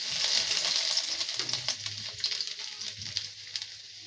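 Eight to ten cloves of chopped garlic sizzle in hot oil for chilli chicken, a steady close crackle that gradually eases off, with no talking.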